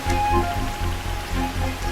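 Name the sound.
rain falling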